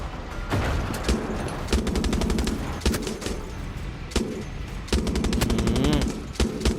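Rapid machine gun bursts from the shooter game Far Cry 6, several loud volleys of fast repeated shots separated by short pauses, layered with explosions and game sound effects.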